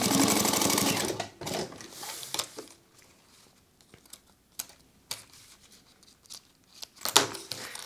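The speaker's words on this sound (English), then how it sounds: "we're going to add our long piece of webbing and center that up right in the line, do a tack stitch" A sewing machine runs a quick burst of tack stitches to fix webbing strap to a bag, then falls silent. Sharp clicks and handling noises from moving the fabric follow.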